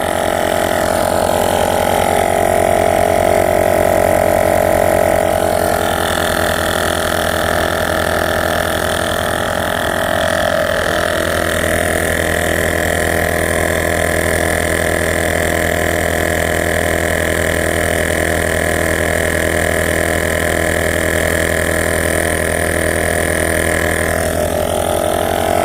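A LASFIT portable tire inflator plugged into a Dodge Durango hums steadily and loudly with a buzzy, mid-pitched motor drone, running continuously throughout with a slight shift in tone partway through.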